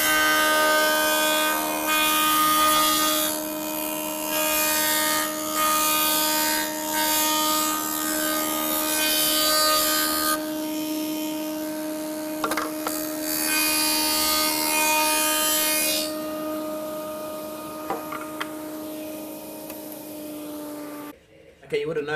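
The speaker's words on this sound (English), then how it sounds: "you could hear that the planer blades were making contact with the timber at the start and at the finish" A surface planer runs with a steady, loud machine drone as timber feeds through, its blades cutting with a rough rubbing noise and a few sharp knocks near the start and finish before the motor cuts off.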